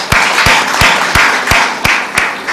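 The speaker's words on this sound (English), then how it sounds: "let's give another applause for them also" An audience at a social business design lab applauds loudly, a thick crowd clapping with steady rhythmic accents from a few strong hands, close and continuous.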